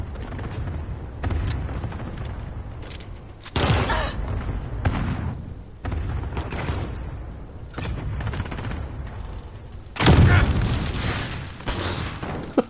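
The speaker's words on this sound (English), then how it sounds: "Enemy cluster strike incoming." Cluster strike explosions in a first-person shooter video game, repeated booms and bursts of blasts rising and falling, with the loudest heavy impacts near the middle and end.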